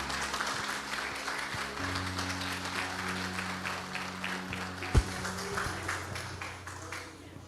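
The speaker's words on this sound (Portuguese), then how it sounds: "aplauda o Senhor Jesus" A congregation claps continuously at a Portuguese-language church service, steady and moderately loud over sustained low instrumental tones, with one sharper knock midway and voices mixed in.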